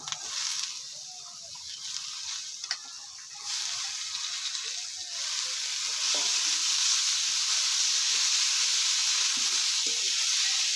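Green chillies and bitter gourd fry in hot oil for a bitter gourd and tangra fish curry, a steady close sizzle and hiss that swells louder partway through, with faint stirring scrapes and no talk.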